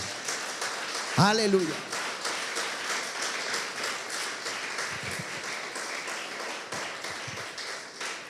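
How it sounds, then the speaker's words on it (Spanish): Church congregation applauding in worship, a steady broadband patter of many hands throughout with a voice calling out briefly near the start. "Demos un aplauso al Señor y digamos: gracias, Padre."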